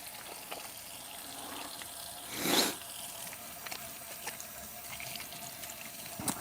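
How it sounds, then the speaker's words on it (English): A kitchen tap runs in a brief burst of water as hands are washed at the sink, rising and fading over about a second amid quiet room tone and small clicks. "One final wash of the hands."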